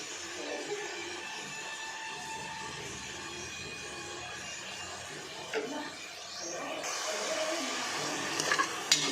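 Tomatoes fry in a pan with a low sizzle while being stirred, with a few scrapes and clinks of the spoon, and the frying grows louder in the last seconds.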